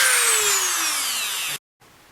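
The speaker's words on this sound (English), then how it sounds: "the Dremel operates at extremely high speed" A Dremel rotary tool spins at very high speed, grinding down a vintage die-cast Tootsietoy, a steady bright whine with a slowly falling pitch that cuts off abruptly near the end, leaving faint residual noise.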